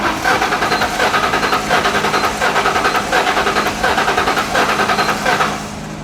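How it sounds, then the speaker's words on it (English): An old, long-neglected Ford Mustang GT engine turns over and runs, giving a steady, loud pulsing mechanical drone with regular cyclic beats that drops away near the end. "Nacho, let's crank it up"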